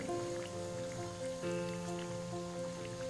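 Bengali crispy tea-time snacks deep-fry in hot oil until golden, a dense, continuous crackling bubble, close and steady, with a faint low hum underneath.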